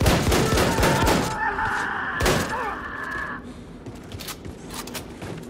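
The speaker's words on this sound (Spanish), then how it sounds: "claro que es súper útil la escopeta." A shotgun firing in Wolfenstein II: The New Colossus, a few heavy blasts with short gaps between them amid game clatter and a brief tonal whine, loud at first then easing off.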